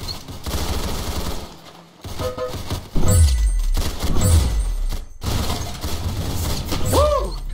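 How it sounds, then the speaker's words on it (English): Gunfire in the Roblox shooter Arsenal: bursts of rapid automatic shots with mechanical clatter, loud and close, amid busy game sound effects and music. "that's some beautiful shooting right there."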